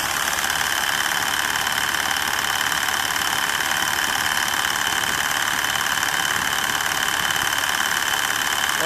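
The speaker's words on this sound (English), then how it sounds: "I'm not sure if this is an internal noise or if it's a noise coming from the belt or the idler pulley" A car engine idling with a steady, whining drone and faint rhythmic ticking, thought to come from a worn AC clutch bearing, belt or idler pulley, recorded close up with no talk.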